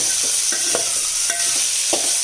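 Milk mava being stirred in a pan while cooking down for peda, a loud, steady bubbling sizzle broken by several scraping strokes of a spoon against the pan, close up with no voices.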